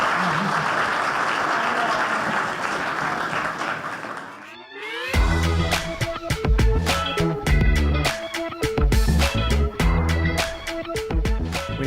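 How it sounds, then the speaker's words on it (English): A live audience gives a round of applause at a film festival acting session, a broad wash of clapping for about five seconds before it cuts abruptly to loud, rhythmic music with strong beats. "Let's give these guys a round of applause and thank them for their time."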